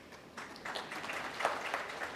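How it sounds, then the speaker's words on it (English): Audience clapping at a spiritual talk, a soft, diffuse patter of many hands that rises after a quiet start and carries on steadily at a moderate distance. "what are you clapping your hands for?"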